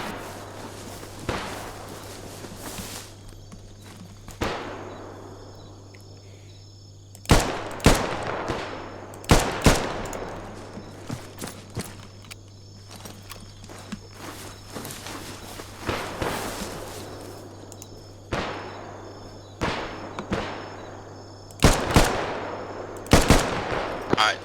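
Airsoft guns fire during outdoor MILSIM infantry training: repeated sharp single shots and rapid bursts at varying distances, with footsteps and movement between the volleys.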